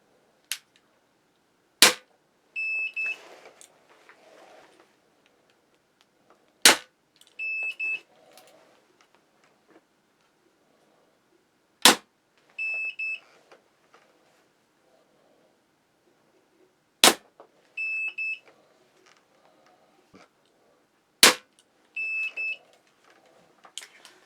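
Crossbow shots fired through a chronograph outdoors: five sharp, loud snaps spaced several seconds apart, each followed by a short electronic beep from the chronograph and some faint handling noise.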